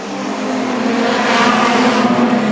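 A pack of production sedan race cars pulls away at the green flag, engines roaring loud and continuous as they accelerate together, with no talking.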